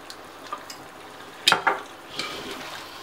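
Fish stew with coconut milk stirred in a pan, soft scraping and clinking of a utensil against the pot with a brief louder knock midway, quiet and without talk.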